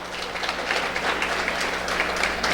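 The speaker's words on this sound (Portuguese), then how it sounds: "Uma salva de palmas, então," Audience at a municipal council public hearing applauding, a brief, steady patter of clapping heard at moderate distance over a low electrical hum.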